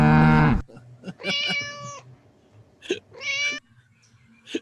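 Two drawn-out, close meows from a cat follow a short loud tonal burst, with a quieter cry near the end and voices talking around them, likely a person imitating the cat.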